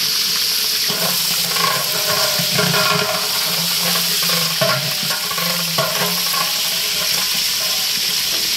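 Food frying in a large pot for a wedding-style roast cooked by a Dhaka caterer, with a steady loud sizzle and repeated stirring scrapes running throughout, no talk.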